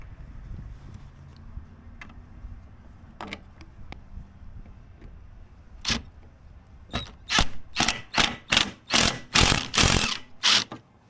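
Bolts are fitted and tightened during a boat upgrade: a few isolated clicks at first, then a quick series of sharp, loud ratcheting clacks in a rapid rhythm near the end.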